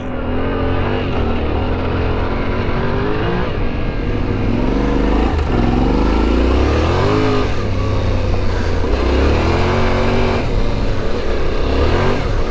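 A Yamaha Ténéré 700 adventure motorcycle rides along remote mountain ridges, its engine droning loud and steady with rising and falling revs as it flows through bends, close up and continuous with no voices.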